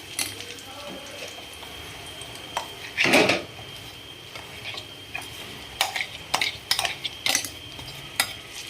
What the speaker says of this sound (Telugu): బాగా ఆయిల్లో కలుపుకోండి.